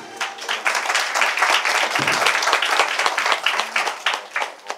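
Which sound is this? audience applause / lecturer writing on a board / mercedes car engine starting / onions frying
audience applause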